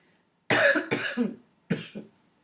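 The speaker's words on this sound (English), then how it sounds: "You don't need a whole minute devoted to coughing" Two harsh coughs in quick succession, then a third after a short pause, close and loud.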